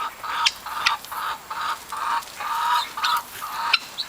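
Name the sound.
bantam partridge rock rooster and hens clucking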